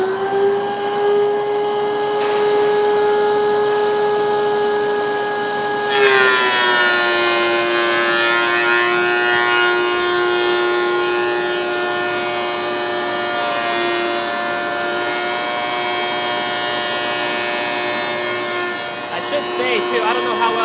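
DeWalt planer feeding a board, a loud steady whine whose pitch drops as the wood engages and then holds under load, with a voice speaking faintly underneath.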